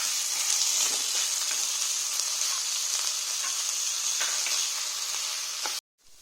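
Close, continuous sizzling of rice frying in ghee and oil, with faint stirring scrapes, cutting off abruptly near the end.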